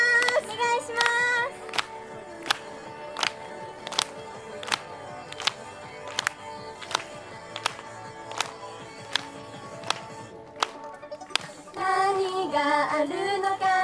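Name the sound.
audience clapping along to the song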